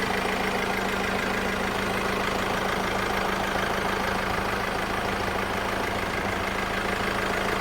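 Ford Ranger 2.2 XLT Hi-Rider pickup from 2015 idling smoothly, a steady, even engine hum with a low drone recorded close by, alone with no voices.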